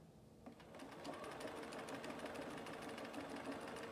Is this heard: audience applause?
no